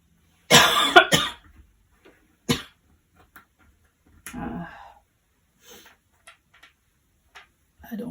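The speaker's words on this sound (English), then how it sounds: "I don't like to cough." Someone indoors coughs in a short burst of several harsh coughs, followed by scattered quieter coughs, throat sounds and small clicks separated by silence.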